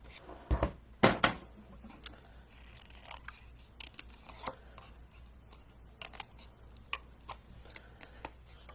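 Scissors snip repeatedly, with a few sharp louder cuts at first followed by lighter, irregular clicks of cutting nearby.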